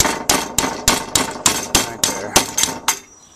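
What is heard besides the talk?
hammer bending metal against table edge during Blazer repair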